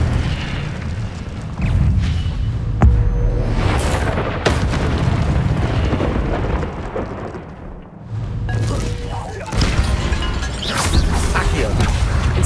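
Incendio fire spells cast in Hogwarts Legacy erupt in repeated booming, crackling bursts of flame across combat, loud and close, with brief lulls between volleys and occasional voices in the mix.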